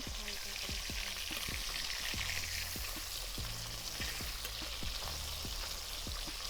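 Small jatka hilsa fish pieces frying in hot white oil, a steady dense sizzle with regular soft knocks of a utensil against the pan, fairly quiet and with no talking.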